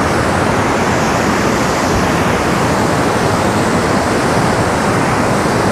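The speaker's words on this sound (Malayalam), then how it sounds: "അരുവി കലിതുള്ളി ഒഴുകുകയാണ്" A stream rushes powerfully below Perunthenaruvi dam, its water roaring in a steady, loud, broadband wash that never lets up, with no voices over it.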